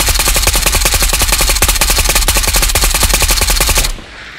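AK Alpha rifle in the Ghost of Tabor VR game firing a loud, rapid sustained automatic burst, dense evenly spaced shots for about four seconds before stopping abruptly.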